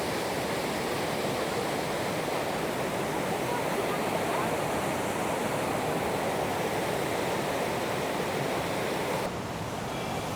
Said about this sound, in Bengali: আর এই লিডার নদীর কি সুন্দর কলতল বেয়ে চলছে এই লিডার নদী